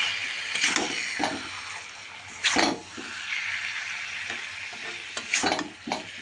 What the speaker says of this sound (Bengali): এবারে পনিরগুলো দেওয়ার পর আমি সব মিশিয়ে নিচ্ছি ভালোভাবে